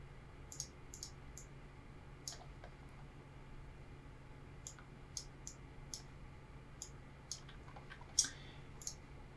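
A computer mouse clicks repeatedly during photo editing in Lightroom, with sharp, close, irregular clicks that are sometimes paired, over a faint steady room hum, and no talking.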